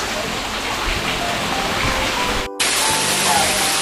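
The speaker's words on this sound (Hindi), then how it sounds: "पानी ऊपर से नेचुरल वाटर अपने आप आ रहा है" Natural water trickling and splashing down inside a Himalayan cave shrine to Shiva in Himachal Pradesh, a steady broadband wash like rain on stone, close and continuous with a brief dropout near the end.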